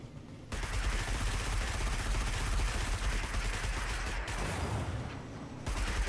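Rapid-fire heavy weapon in the Destiny video game, a dense, continuous roar of shots for several seconds with a brief dip near the end, no talking.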